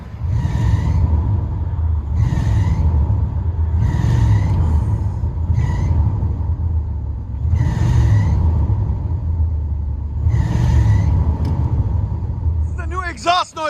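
A 1984 Chevy Caprice Classic with a 5.0L V8 and dual Flowmaster Flow FX exhaust rumbles deeply, revving in repeated swells heard from inside the car, with a brief high squeal at the end.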